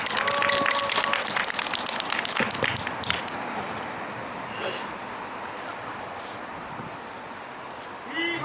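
A crowd applauds to welcome a speaker at an outdoor Progressive Party political street rally in Gyeongju. The clapping is loud at first, then thins out and fades into wind and open-air background noise.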